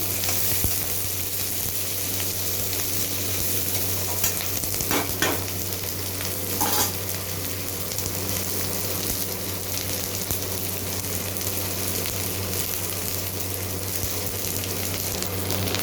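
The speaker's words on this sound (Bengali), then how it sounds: "ক্যাপসিকামটা দিয়েও কিছুটা ভেজে নেব।" Onion and capsicum frying in a pan for a mushroom chilli dish, a steady close sizzle with a low background hum and a few brief stirring scrapes, no voices.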